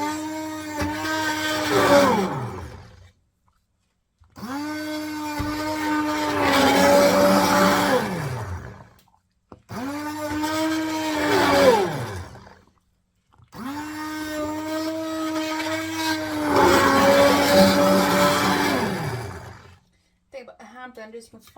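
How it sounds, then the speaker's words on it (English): A hand blender churns through sweet potato and rosemary soup in four long bursts with short pauses between them. The motor's whine rises and strains as it works, loud and close. "As you blend it up, the potato will start to thicken the soup."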